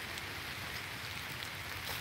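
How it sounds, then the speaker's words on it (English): Steady pouring rain falls through woodland, a dense continuous hiss with no voices. "it's starting to pouring rain now."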